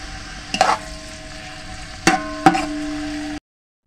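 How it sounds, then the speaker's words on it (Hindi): Sliced onions frying in hot oil for a vegetable pulao, a steady moderate sizzle broken by a few sharp clinks of a stirring spoon against the pot before it cuts off. "हम इसमें प्याज शामिल करेंगे। बिस्मिल्लाहिर्रहमानिर्रहीम। इसको अच्छा सा हम फ्राई करेंगे।"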